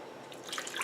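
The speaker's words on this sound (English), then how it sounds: "we'll add the rice milk in" Rice milk poured into a pot of vegan aloo gobi, a soft, close liquid trickle and splash that grows slightly louder over under a second.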